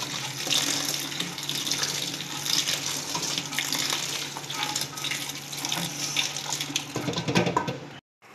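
Cold water runs steadily from a kitchen tap over cooked spaghetti in a strainer, a continuous close hiss and splash that stops abruptly near the end.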